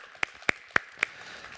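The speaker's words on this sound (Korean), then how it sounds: "우리 섬겨주신 집사님께 큰 박수 한번 부탁드립니다." Four sharp, evenly spaced hand claps ring out in a church worship service, faint and brief rather than a full crowd's applause.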